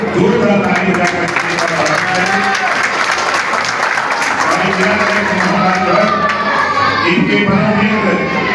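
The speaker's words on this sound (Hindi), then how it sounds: "जोरदार ताली बजाकर" Loud applause from a crowd at a village inauguration event in Azamgarh, sustained clapping with voices mixed in underneath.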